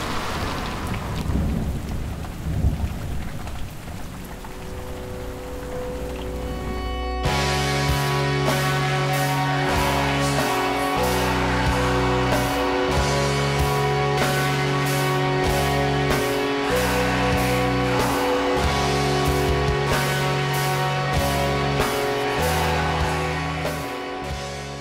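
Thunderstorm with heavy rain in the Appalachian mountains: a steady wash of rainfall, with a deep rumble of thunder rolling in and continuing loud and close throughout, with no voices.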